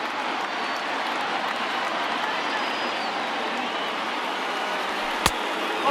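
A baseball stadium crowd of about 30,000 rises and cheers in MLB The Show 20, a loud, sustained roar of voices and applause that holds steady, with one sharp crack near the end.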